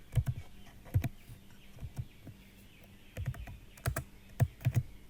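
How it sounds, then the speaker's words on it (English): Keys clattering on a computer keyboard as code is typed, in irregular bursts of close, crisp clicks separated by short pauses, with no voice over them. "I would like to type here"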